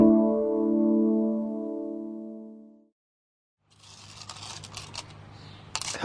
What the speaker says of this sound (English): Help me organize these coins.